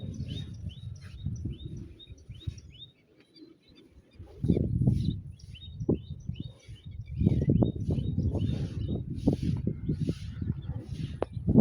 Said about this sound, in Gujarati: આમ ટીટોળી બોલે